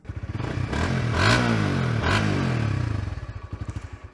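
A Honda Winner 150 motorcycle engine idles with a pulsing putter, revs up into a loud sustained roar, then settles back to a throbbing idle.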